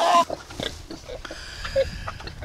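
Pigs on a farm, sows expected to farrow soon, give short grunts and snorts at close range amid outdoor noise, with a brief louder squeal-like grunt near the start.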